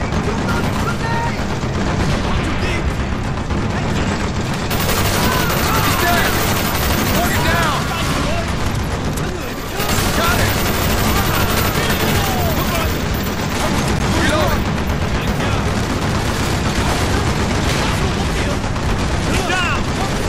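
Dense, loud gunfire in Call of Duty: Black Ops, rapid overlapping machine-gun bursts and explosions filling the whole stretch, with only a brief lull midway, while voices shout over the combat.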